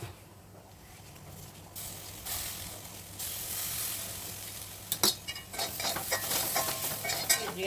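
Spice powder is stirred in a pan for a jackfruit stir-fry, a soft scraping and sizzle that grows louder halfway through, with clinking utensil taps and scrapes near the end, close and with no voices.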